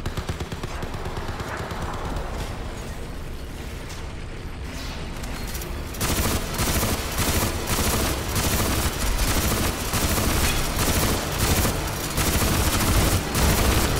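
Reaper cannon in Crysis 3 Remastered firing in rapid, dense bursts, loud and close, continuing for several seconds after a quieter stretch with no talk.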